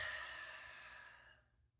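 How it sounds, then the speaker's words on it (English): A slow, deep exhale during a guided seated meditation, soft and close, fading out gradually over about two seconds with no talking. "begin to take a few deep breaths"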